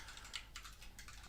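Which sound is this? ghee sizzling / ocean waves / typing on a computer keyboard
typing on a computer keyboard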